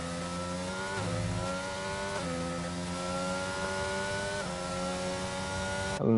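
An F1 race car in a video game screams through a qualifying flying lap, its high engine note holding steady with a few quick dips at gear changes, loud and continuous with no talk.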